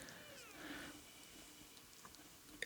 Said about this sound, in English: there's kitty cats on here